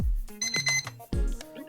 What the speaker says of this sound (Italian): il timer sta scadendo, il primo